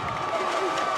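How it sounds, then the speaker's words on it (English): A bundled-up crowd at a cold varsity high school football game in Haslett, forming a steady wash of cheering and crowd noise, with an announcer talking over it. "And there's the Viking crowd."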